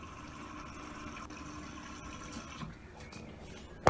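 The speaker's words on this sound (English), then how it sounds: "we're just checking here that the washing machine fills up with water" Water rushes and splashes steadily into a newly installed washing machine, a faint continuous filling hiss heard close up with no talking.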